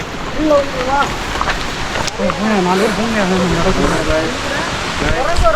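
The steady rushing roar of Suruli Falls in Theni fills the background, a constant broad wash of falling water, with people talking and calling over it nearby.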